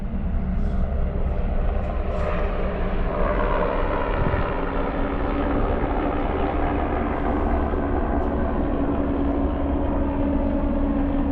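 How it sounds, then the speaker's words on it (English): A steady low mechanical rumble and engine drone of a helicopter flying away holds at an even level throughout, heard at a distance, with no talking. "we saw a helicopter landing"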